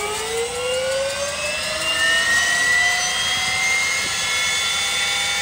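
A jet engine fitted in a Camaro starts up, producing a loud, continuous turbine whine with tones that rise steadily in pitch as it spools up. It sounds close and dominates the whole stretch, with no voices.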